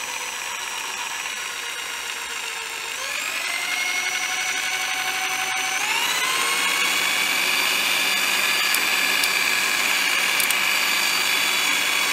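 A Bosch jigsaw motor runs alone at low speed, a loud, continuous whine that steps upward in pitch twice as it spins up and then holds steady.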